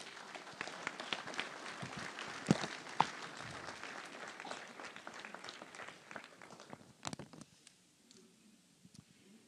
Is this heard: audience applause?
yes